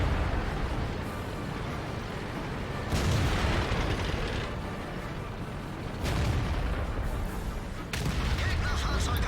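Booming blasts in a World of Tanks battle as an IS-7 heavy tank's ammo rack detonates, heavy explosive bursts recurring about every three seconds over a constant roaring din.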